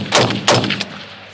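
An AR-15 rifle from Bear Creek Arsenal fires two sharp, loud gunshots about a third of a second apart, close by and outdoors, each followed by a brief fading echo, with no talk.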